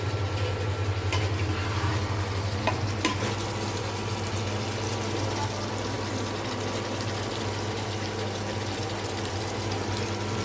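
Beef curry sautéing in a pan, a continuous dense sizzle and bubbling under a low steady hum, with a couple of brief stirring scrapes near the start and no talk.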